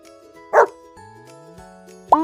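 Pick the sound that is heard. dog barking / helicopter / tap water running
dog barking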